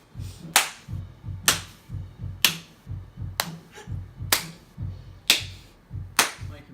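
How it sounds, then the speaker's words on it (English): Sharp single hand claps laid down for a music track land at an even beat about once a second, seven in all. Each is close and crisp and rings briefly over a soft low backing pulse. "she's going to kindly add some claps in for me"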